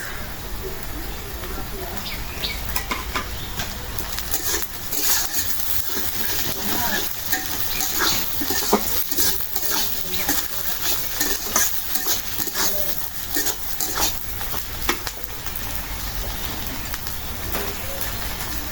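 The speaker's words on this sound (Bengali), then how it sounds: "আদা রসুন বাটা, আদা রসুন বাটাটা একটু মিশিয়ে দিলাম, মাছের ঝোল।" Ginger garlic paste stirred into frying fish curry with onion and green chilli, a continuous crackling sizzle with spoon scrapes and pan knocks while a voice talks over it.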